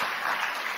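A church congregation claps during a worship service, a brief, dense wash of applause with no speech over it.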